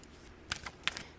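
Rider-Waite tarot cards are shuffled by hand in a few quiet, brief riffling bursts, close up and soft against a hushed room.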